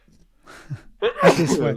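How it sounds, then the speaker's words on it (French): A short breathy intake builds into a loud, explosive sneeze, close up. "Je vais éternuer."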